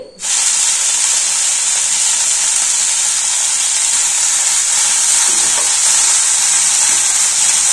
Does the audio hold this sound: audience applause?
no